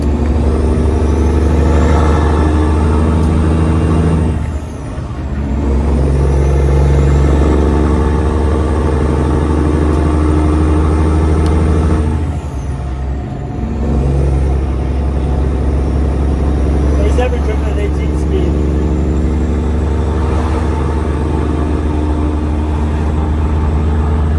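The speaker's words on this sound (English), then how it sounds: "This truck sounds good." A heavy diesel Freightliner Classic truck engine with an 18-speed transmission rumbles steadily while driving, loud and close, with a deep low drone and brief dips in the roar.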